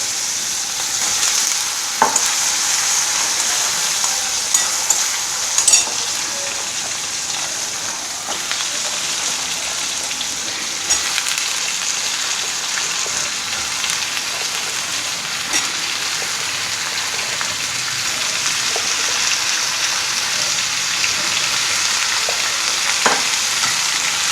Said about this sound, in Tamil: ஆனால் எல்லா கத்திரிக்காயிலையும் எண்ணெய் படும்படி கிளறி விட்டுக்குங்க.